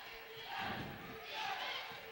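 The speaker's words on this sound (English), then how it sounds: "the crowd getting involved for Plattsburgh, calling for defense" A home crowd at a women's college basketball game, Plattsburgh State against Norwich, chants for defense in two rising swells, distant and quite faint behind a commentator's voice.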